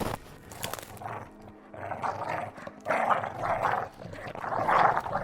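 Snarling wolves closing in around a tree in a dark wood, a run of close, rough growls and throaty snarls that swell in bursts and grow louder toward the end, with no voices.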